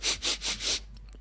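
A person takes four quick, close sniffs of the air in a steady rhythm, each a short breathy burst, followed by a moment of quiet.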